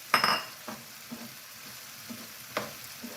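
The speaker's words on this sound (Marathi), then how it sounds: "त्याच्यावर ही लापशी टाकायची आणि चांगली ती तुपामध्ये परतवून घ्यायची" Broken wheat (lapsi) roasts in a little ghee in a pan, a faint dry sizzle broken by a few soft scraping strokes of a spoon, with no talk.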